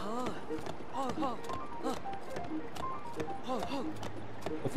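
Wild horse in The Legend of Zelda: Breath of the Wild, its hooves clip-clopping in a steady trot beneath continuous talking throughout.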